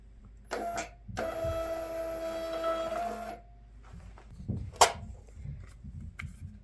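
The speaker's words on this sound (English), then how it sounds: "how fast it prints out your labels" A Munbyn Bluetooth thermal label printer runs a sample label, with a short whir, then a steady mechanical buzz of about two seconds, followed by softer clicks and a sharp tear or snap near the end.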